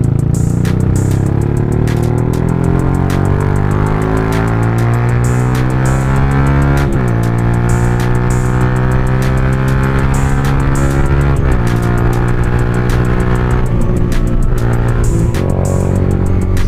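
Engine of a Sniper 150 motorcycle without ABS on a night ride from Paranaque to Quezon City, a loud continuous drone that climbs and drops in pitch through gear shifts, with steady wind rush.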